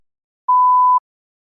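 A single clean electronic beep, a steady mid-pitched tone of about half a second, marks the start of a TOEFL speaking response, with silence on either side.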